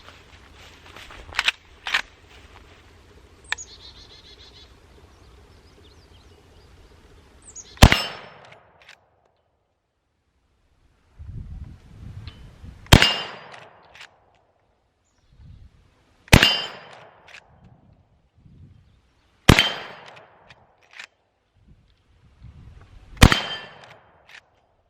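Winchester Model 94AE lever-action rifle firing five loud, sharp shots spaced several seconds apart outdoors, each cracking and then decaying, with quieter handling clicks and rustles between them.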